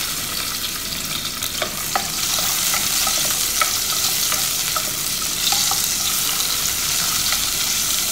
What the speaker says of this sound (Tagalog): So ayan, bali ganyan lang, gisa-gisa lang.